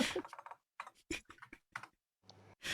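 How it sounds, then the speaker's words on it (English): Someone clicks and types furiously on a computer keyboard at close range. The sound is quiet, coming in quick irregular clusters of clacks with brief pauses between them. "I hear Mel just furiously clicking."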